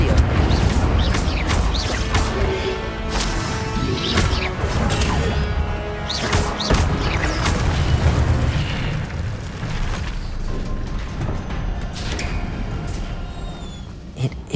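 Incendio fire spell cast in Hogwarts Legacy, heard as repeated booming, crackling bursts over a dense, continuous wash of game sound, with a voice calling out spells.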